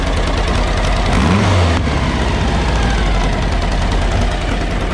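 A street-legal sandrail engine runs steadily with a quieter exhaust, a continuous loud low-pitched drone with a brief rev swell partway through.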